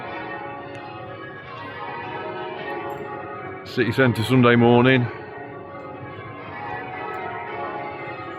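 Church bells from Derby Cathedral ring steadily in the background on a Sunday morning in the city centre, while a person speaks briefly over the continuous pealing.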